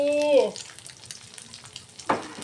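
Squid frying in a hot pan for a Thai breakfast of squid omelette, a short sizzle with a quick stir and a brief clatter, close and fairly loud, with no talk over it.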